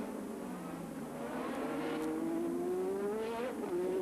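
Formula 1 cars at the 1987 Monaco Grand Prix scream past as a queue forms behind a leader, their high engine notes rising and sweeping by one after another, heard from a distance under faint crowd ambience.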